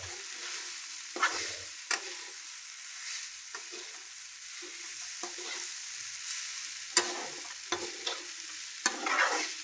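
Poha cooking on a gas stove in a pan, a soft continuous sizzle broken by several sharp scraping strokes of a spoon stirring the flattened rice, close and moderately quiet with no talking.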